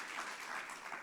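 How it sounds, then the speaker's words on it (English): A short burst of applause, many hands clapping together in a steady, fairly soft wash of sound. "Give her a round of applause, please."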